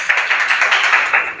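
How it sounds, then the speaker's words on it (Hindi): Students in a classroom burst into a round of applause, a dense, steady patter of many hands clapping together close by for the whole moment, with no voices over it. "बैठो, ताली बजाओ एक बार अच्छे से"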